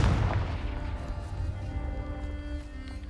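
A Confringo blasting spell goes off in Hogwarts Legacy, a heavy booming burst at the start that rolls away into a long, fading rumble with lingering magical ringing.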